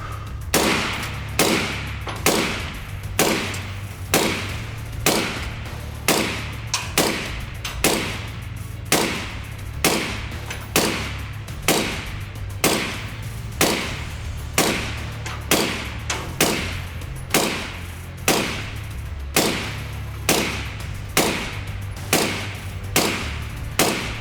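A suppressed KGM R556A2 rifle chambered in 5.56 NATO fires steady single shots about one per second, each a sharp muffled crack with a short tail, repeating evenly for more than twenty rounds.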